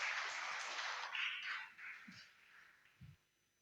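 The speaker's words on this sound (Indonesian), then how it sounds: "Mari kita sambut dengan tepuk tangan Pak Sony Pilongo" Congregation at a Sunday church service in Tulungagung clapping together; a faint, dense wash of applause that thins out and fades over a few seconds.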